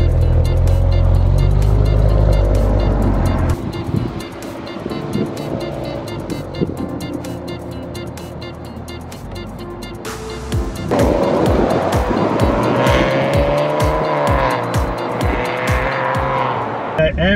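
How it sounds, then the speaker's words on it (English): A 2017 Maserati Ghibli S Q4's engine roars and revs, dropping to a lower rumble midway before surging and revving hard again, loud and close. "I am enjoying the heck out of driving this car."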